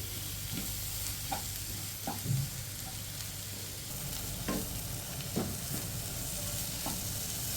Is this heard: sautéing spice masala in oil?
yes